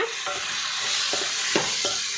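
Chicken pieces with salt and turmeric are stirred in a hot frying pan for chicken curry, a steady sizzle with several quick scraping strokes of a spoon, close and loud.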